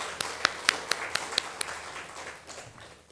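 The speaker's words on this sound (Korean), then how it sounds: "우리 다시 한번 큰 박수로 하나님께 영광을 돌리겠습니다" A Korean church congregation in Chile claps during Sunday morning worship: a steady series of crisp, evenly spaced claps that stand out at first, then thin and fade into soft room murmur.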